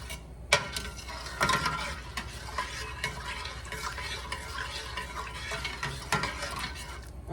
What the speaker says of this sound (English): Get that stirred around.